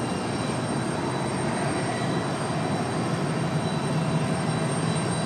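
Steady, broadband engine roar from an airliner at Raleigh Durham airport, a continuous wash of jet noise held at even loudness throughout, with a faint high whine on top and no voices.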